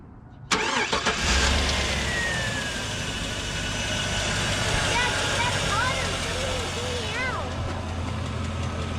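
Chevrolet Suburban 5.3L engine cranking and starting with a sharp catch, then settling into a steady, close idle with a fan whirring, as people talk briefly over the running engine.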